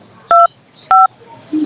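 A phone being dialled: two crisp, loud keypad tones a little over half a second apart, then the start of a third, close up and clean with no voices.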